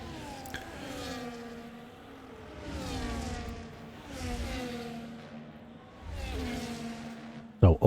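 Race cars scream past in a racing game at Spa, Belgium, climbing out of Eau Rouge, with several engines rising and falling in pitch as each car passes, and commentary runs over them.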